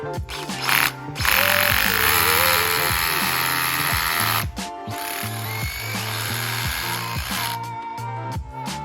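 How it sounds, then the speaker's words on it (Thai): A rotary hammer drills with no dust extraction attached, a loud, close, continuous rattling hammer-drill roar broken by a brief pause midway before it resumes. "เดี๋ยวเราเริ่มเจาะแบบไม่ต่อเครื่องดูดฝุ่นกันก่อนเลยนะครับ"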